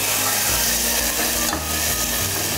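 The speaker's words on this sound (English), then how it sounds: "So I will just cook the garlic ginger paste for a minute or two." Garlic ginger paste fries and sizzles steadily in a pan for a soya potato bake, with continuous loud crackle and a scraping stir around the middle, no voices.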